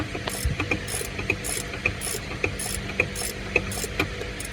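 A ratchet tightens a bolt on a Sea-Doo Switch personal watercraft during an oil change, making a run of sharp, evenly spaced metallic clicks in repeated strokes, close and alone.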